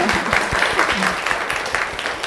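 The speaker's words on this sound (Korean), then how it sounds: "한 번 더 박수." An audience at an essay lecture applauds, a dense, steady patter of many hands clapping close by that fills the whole stretch.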